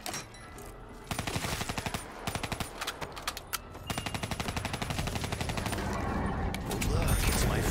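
CUDA gun in Call of Duty Black Ops 3 Zombies: rapid automatic bursts of sharp, clattering shots in several strings, separated by brief pauses, with mechanical clicks and a rising rumble toward the end.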